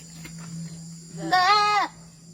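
A goat gives one loud, wavering bleat up close, lasting about half a second, after a quiet stretch with a low steady hum in the background.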